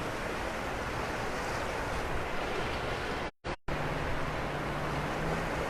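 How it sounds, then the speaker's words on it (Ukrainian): Floodwater of the Lybid river in Kyiv rushing over its concrete channel after rain, a steady loud broadband roar that continues unbroken except for one brief dropout in the middle. "Тече по бетонному жолобу, а коли дощ, вона виходить з берегів."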